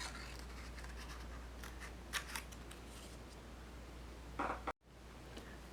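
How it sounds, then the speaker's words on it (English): Scissors cut plush ponytail fabric along a seam line, giving faint, close snipping and scraping strokes in short bursts against a quiet background, with one sharper cut late in the clip. "So I'm gonna go right up here and cut in here and cut along this seam line."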